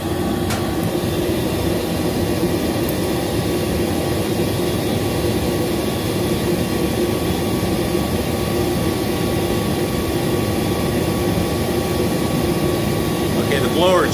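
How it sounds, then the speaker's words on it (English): An HVAC blower motor running, with an ECM retrofit motor in question: a steady, loud, unbroken mechanical drone with a constant hum throughout. "Blower just came on."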